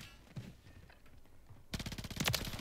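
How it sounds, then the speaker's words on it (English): Rapid automatic fire from a BP-50 rifle loaded with overpressured ammo in Modern Warfare 3 builds into a dense, fast rattle of shots that grows louder in the final second, following quieter scattered game noise. "we're putting out bullets really quickly"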